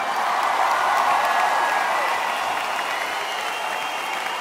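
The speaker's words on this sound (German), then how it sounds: "Zum Beispiel jetzt könnt ihr klatschen, bis euch die Hände abfallen." Concert crowd at a show in Dornbirn applauding, a thick, continuous wash of clapping and crowd noise, loud and steady with no break.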